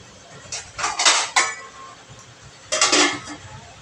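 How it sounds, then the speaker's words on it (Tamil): A metal lid set onto a cooking pot on the stove: a few close, bright clinks and clatters in two quick bursts, with a short pause between them. "இப்போ வந்து மூடி போட்டு மூடி வச்சிடணும்"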